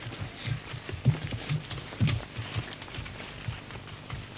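Horse hooves clop at a slow walking pace as a quiet mare is led in a big yard at a stud farm, soft and fairly close, with irregular steps over a quiet outdoor background.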